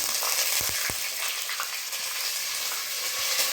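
Onions, green chillies and curry leaves sizzle steadily in hot oil for shavige upma, a loud continuous frying hiss with a few brief stirring knocks near the start.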